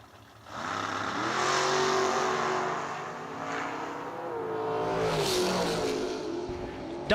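Drag racing door cars launching at a Cedar Falls 350 event, a loud roar of engines building quickly and holding, rising in pitch as they accelerate away, then surging again before the end.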